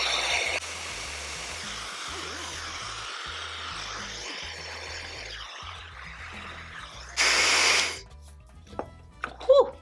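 Fentgo high-speed ionic hair dryer blowing on its cool setting, a steady close whooshing roar for most of the stretch, followed by a brief louder burst and then clicks and handling noise as it shuts off.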